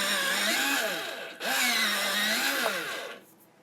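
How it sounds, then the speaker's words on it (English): An electric pencil sharpener grinds a Derwent Soft Pink colored pencil in two whirring bursts, the motor pitch sagging under load before stopping. "You're going to hear my eraser a minute, or my, sharpener a minute."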